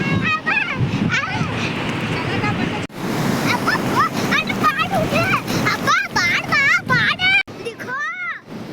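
Ocean waves wash onto the sand at Sitapalem beach near Anakapalle, a continuous rushing surf with wind buffeting the microphone, under excited children's voices shouting and talking throughout.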